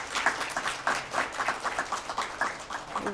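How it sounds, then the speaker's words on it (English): Audience applause at an ability awareness screening and awards event. A short burst of brisk, rhythmic clapping from a modest crowd rises and falls over about three seconds. "Give yourselves applause"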